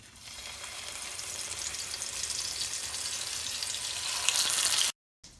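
Food sizzling loudly in a hot frying pan during a food safety cooking demonstration, a steady hiss that builds gradually before cutting off abruptly near the end, with no talk.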